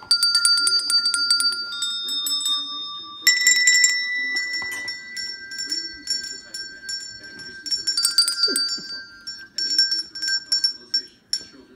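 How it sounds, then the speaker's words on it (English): Small bells rung by a baby, bright jingling shakes in repeated bursts with ringing overtones, close and fairly loud, while an adult speaks and a child babbles in the background. "Ring your bell."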